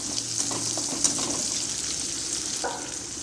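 Curry leaves crackle and sizzle in hot oil, a dense, bright frying hiss with small pops scattered throughout, close and steady without voices.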